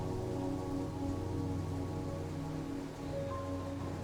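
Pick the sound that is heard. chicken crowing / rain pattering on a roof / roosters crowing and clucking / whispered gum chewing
rain pattering on a roof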